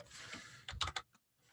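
Brief, close burst of typing on a computer keyboard, several crisp key clicks in quick succession before a short silence.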